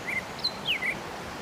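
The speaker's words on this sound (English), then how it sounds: "These birds are so loud out here." Wild birds call along a creek trail in the Black Hills of South Dakota, a few faint, thin high chirps and whistles over a steady outdoor hiss.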